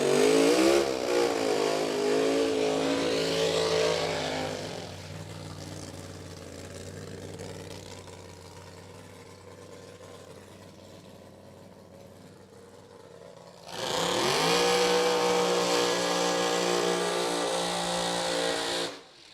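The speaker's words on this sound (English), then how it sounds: "Couple of stout burnouts from these two competitors, Harris and Yaremko." Drag racing cars do burnouts in the burnout box: one engine screams at high revs for several seconds, drops to a lower idle rumble, then a second loud revving burst follows before cutting off.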